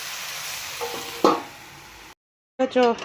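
Vegetables with turmeric powder sizzle in a hot pan while a spatula scrapes and stirs, with a clatter midway, a brief silent gap, then louder scraping strokes resuming.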